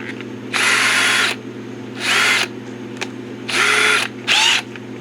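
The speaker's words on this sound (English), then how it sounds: "I got this 4 flute bit" Four bursts of power drilling with a four-flute bit, close and loud, each lasting about half a second to a second with pauses between, over a steady low hum.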